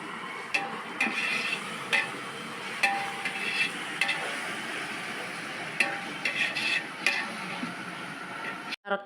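Food cooking in a pot on a stove for a Diwali family meal is stirred with a spoon, giving repeated scraping clinks and taps over a steady background sizzle, fairly close and moderate in volume.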